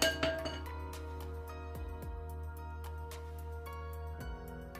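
A metal sieve of flour and Weikfield-style custard powder is tapped against a bowl for a custard cake, giving a run of bright clinks and ringing metallic taps over a steady low hum.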